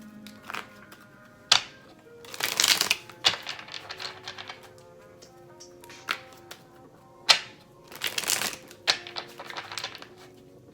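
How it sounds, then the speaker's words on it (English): Tarot cards being shuffled in bursts of crisp riffling and flicking, with sharp taps and pauses between sets, close and fairly loud in a quiet room. "I'm just going to shuffle it just a little bit more."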